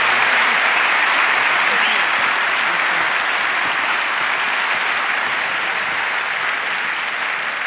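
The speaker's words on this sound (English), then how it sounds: "Please give our two panelists, Michael Vaughan and Peter Chow-White, a round of applause." A large audience at a university panel event gives sustained, dense applause for two panelists, a loud continuous wash of clapping with no breaks.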